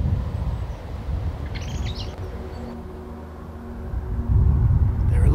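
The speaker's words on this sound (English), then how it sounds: "That's one lucky blackbird." A blackbird calls briefly in a snowy country park, a few faint chirps at mid-distance over a steady low rumble of wind and distant traffic.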